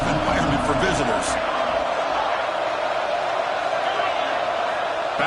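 Stadium crowd roars and cheers steadily throughout an early stretch of a football game, a dense continuous wash of many voices with a brief swell near the start, loud and unbroken.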